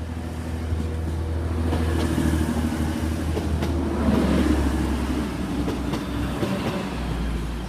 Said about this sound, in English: Handing off platform 4 at Doncaster is your 37, 1 Bravo 70, Transverse Transpennine Express service from Manchester Airport to Cleethorpes, 185113.